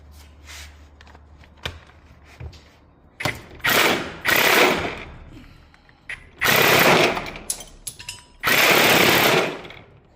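Impact wrench working the starter bolts on a Rotax 503 engine, several loud rattling bursts of a second or so each with short quiet gaps and clunks between, close by.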